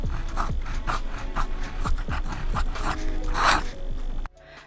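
Aurora Optima 997 fountain pen with a semi-flex nib scratching across paper in a flourish, with rapid repeated strokes and a raspy, close-up texture. It ends abruptly in near silence.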